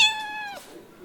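A voice imitates a cat with one clear, drawn-out meow that falls in pitch at the end, heard up close and alone.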